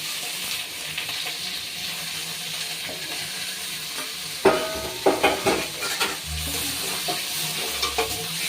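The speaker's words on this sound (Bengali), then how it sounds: "এবার এর মধ্যে দিয়ে দেবো ধুয়ে রাখা মাছের তেল।" Washed fish fat hits a pan of fried onions and sizzles steadily, with several sharp spattering bursts and a spatula scraping and stirring close by.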